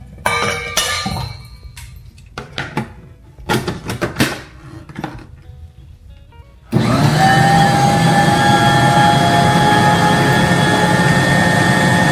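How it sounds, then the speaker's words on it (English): Parts of a Bosch mixer clink and clatter in short irregular bursts as they are washed. A loud, steady running water or motor-like roar then takes over and continues to the end. "I'm going to go ahead and wash the parts"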